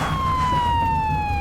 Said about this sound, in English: We can leave our siren going